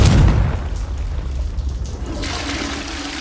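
A Confringo spell explodes in the video game Hogwarts Legacy, a single loud, close boom that fades into a rumbling, watery wash lasting a few seconds.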